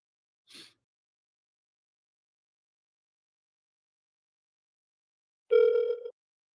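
A single electronic phone call ringing tone sounds once for about half a second after a brief breathy burst, with silence otherwise.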